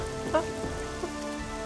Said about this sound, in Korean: 비가 오고 있습니다.